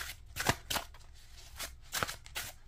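Quick, crisp bursts of a Curious Travels tarot deck being shuffled, a handful of riffling clicks spaced a moment apart, close and fairly quiet.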